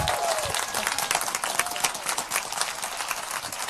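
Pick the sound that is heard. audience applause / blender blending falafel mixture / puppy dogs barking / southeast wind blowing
audience applause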